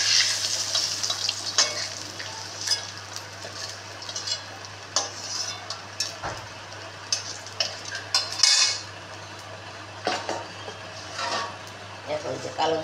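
Black cumin and green chili tempering sizzling in hot oil beside hilsa fish, a steady close crackle under frequent metal spoon scrapes and stirring clinks against the pan, with a low constant hum beneath.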